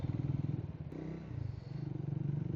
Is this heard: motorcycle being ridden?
yes